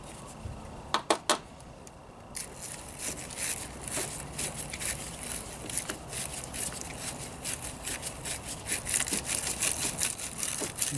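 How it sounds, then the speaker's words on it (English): A battery post cleaner scrubbing a corroded car battery post in a rapid, repetitive abrasive rasp, close and fairly loud, preceded by a few sharp clicks. "Now what I do is I use a battery post cleaner."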